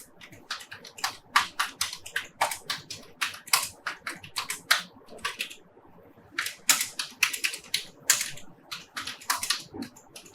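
Rapid typing on a computer keyboard while names are entered into an Excel spreadsheet: bursts of crisp, close key clacks with short pauses between words, no talking.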